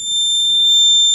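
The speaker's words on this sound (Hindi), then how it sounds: "जैसे ही टेम्परेचर हेक्टिक होगा, एक अलार्म हमारा जनरेट होगा" A temperature alarm on a vehicle pollution detection project sounds a steady, loud electronic tone, unbroken for about a second with no voices.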